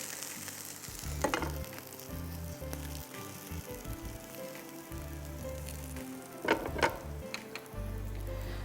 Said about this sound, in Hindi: ये जो प्याज हमारी हो गई है, इसको हम थोड़ा उलट पुलट करके